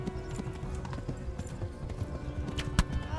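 A horse cantering in the medieval video game Kingdom Come: Deliverance, a steady rhythmic clip-clop of hooves over a rumbling ground bed, moderately loud and continuous with no talk.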